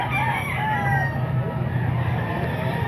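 Roosters crowing amid a busy gamecock market in the Philippines, the crows rising over constant crowd noise and low rumble, fairly loud and continuous.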